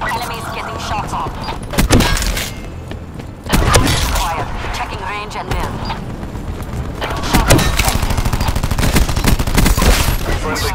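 Gunfire rattles in repeated bursts and volleys during a firefight in the video game Cordite, loud and close, with brief pauses and clanking impacts between bursts while voices talk underneath.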